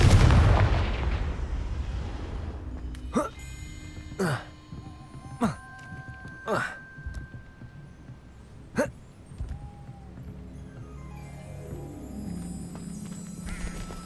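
Several spaced Confringo spell explosions burst in Hogwarts Legacy, each a sharp loud crack or boom with short gaps between, after a noisy rumbling start, while a voice speaks in between.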